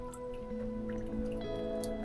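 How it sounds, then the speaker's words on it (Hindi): Rainwater drips steadily into a collecting container at a campsite during a storm, soft wet plinks and squishes close by, with no voices. "अभी ये जो भी रेन वाटर है वो कलेक्ट कर रहा है कार्तिक"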